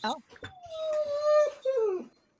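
A dog whimpers in a sad tone: one drawn-out whine that slides downward in pitch, then a shorter falling cry, heard close and clear against a quiet background.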